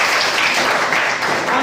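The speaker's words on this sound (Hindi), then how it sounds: "वाह, ताली बजा दो एक बार जोर से।" Students in a Class 8 classroom clap loudly together, a close, vigorous burst of many hands that stays dense and even for the whole stretch, without anyone speaking over it.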